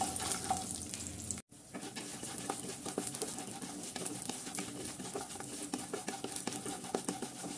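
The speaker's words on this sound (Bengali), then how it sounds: "কুমড়ো বড়িগুলো আমি একটু ভেঙে নিয়েছি, এরপর তেলের মধ্যে দিয়ে ভেজে নেব।" Broken pieces of pumpkin bori fry in hot oil, a steady close sizzle broken by stirring scrapes, with one brief pause early on.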